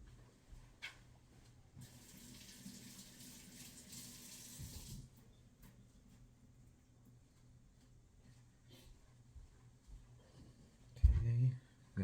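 Tap water runs into a sink for about three seconds while something is rinsed, then cuts off. Faint handling clicks and knocks follow, with a louder thump near the end.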